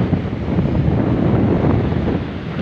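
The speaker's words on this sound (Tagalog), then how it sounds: "Lakas ang hangin." Strong wind buffets the microphone outdoors near the sea, a loud continuous low roar with gusty swells and no one talking.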